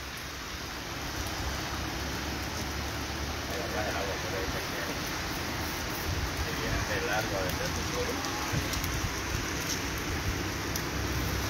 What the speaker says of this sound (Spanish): solo quedó una pequeña llovizna suave